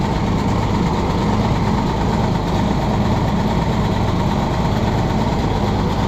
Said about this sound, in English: All right, well, another running tractor.